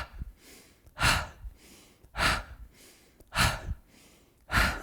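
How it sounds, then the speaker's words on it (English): Four slow, deliberate breath cycles during a wake-up yoga session, each a loud, close, airy exhale through the mouth after a quieter nasal inhale, evenly spaced about a second apart with no talking. "Breathing in the nose, exhale out your mouth."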